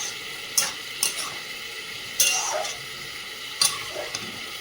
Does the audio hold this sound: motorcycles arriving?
no